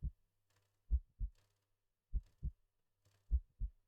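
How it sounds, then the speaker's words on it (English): Soft heartbeat from a horror video game plays as paired low thumps, lub-dub, repeating three times at an even pace in otherwise near-silence. "Oh god, I can hear the heartbeat"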